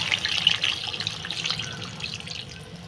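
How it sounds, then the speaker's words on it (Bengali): Water pours into a pot of browned chicken curry to make the gravy, a steady splashing rush up close. "আমি জলটা দিয়ে দেবো।"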